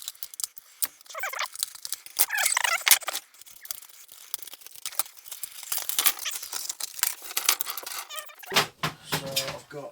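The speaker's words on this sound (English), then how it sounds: "We'll need a pair of scissors to open these up because the packet is ridiculously hard to get into." Scissors snipping and tearing at a stiff plastic drill bit packet, with crinkling, crackling rustles and sharp cuts in bursts, close and fairly loud, no talking.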